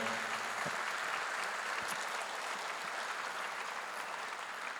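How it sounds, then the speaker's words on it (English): A roomful of people at an Armenian Genocide commemoration event applauds in a steady, sustained wash of clapping, moderately loud, with no speech over it. "Please give everyone a big round of applause for being here tonight."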